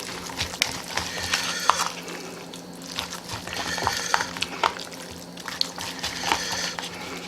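Tuna salad stirred in a bowl, wet squelching and soft clicking strokes repeating in a steady rhythm at close range, fairly quiet with no voices.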